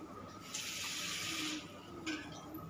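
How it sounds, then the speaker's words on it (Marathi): Water pours from a vessel into a pot of cooking dal for Maharashtrian fodniche varan, a bright splashing gush for about a second, then a shorter second pour, over a quiet kitchen background. "हवं तेवढं पाणी ॲड करायचं."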